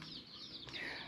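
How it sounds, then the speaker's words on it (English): Chickens on a poultry farm with a flock of about forty birds cluck and call softly in a short stretch of faint, continuous background sound, with no one speaking. "right now we have close to 40 chickens"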